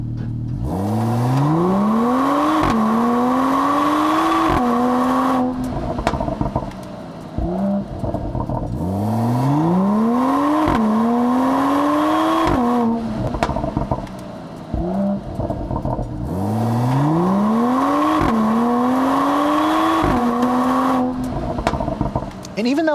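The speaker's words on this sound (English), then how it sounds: "this straight six has its own unique sound to it" A 2020 Mercedes-AMG E53's inline-six engine and exhaust rev loudly three times, each climbing through the gears with a rising pitch and then dropping back to idle.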